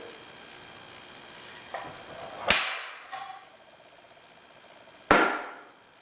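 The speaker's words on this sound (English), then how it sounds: "So let's go ahead and center punch it." Two sharp metallic strikes of a hammer on a center punch into metal, a couple of seconds apart, each ringing briefly, with a lighter tap before the first; close and fairly loud.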